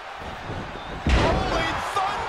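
A wrestler crashes down from a moonsault onto the ring mat in a televised wrestling video game match, one loud heavy slam cutting through steady crowd noise and commentary.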